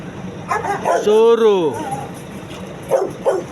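Large dogs in a garage giving a loud yelping bark and whine, then a couple of short yips, with someone speaking at the start.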